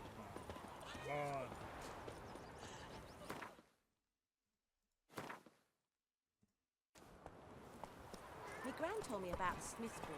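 Roach, a horse in The Witcher 3, gallops with rapid, rhythmic hoofbeats. The hooves cut out for a few seconds and then return, with people talking over them.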